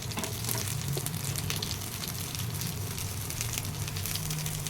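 Stuffed bitter gourd fries in coconut oil in a pan, giving a steady, close crackling sizzle with a low bubbling hum underneath and a few light stirring scrapes, continuous throughout with no voices.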